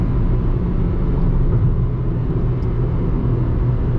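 A 2020 Ford Ka Sedan SE 1.5 with manual gearbox cruising on a highway, heard from inside as a loud, constant low engine drone mixed with road and wind rumble, steady throughout with no talking.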